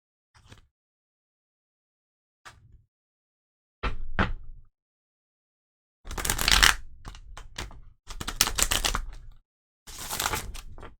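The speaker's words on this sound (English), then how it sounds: "I just want to shuffle to make sure we got like a really good shuffle going on here" Tarot cards riffle and slap in several bursts separated by silences, some short taps early on, the later shuffles louder and longer, close by.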